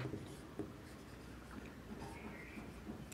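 Faint scratching of pen on paper during a maths lesson, continuous soft strokes close to the microphone over a low background hiss.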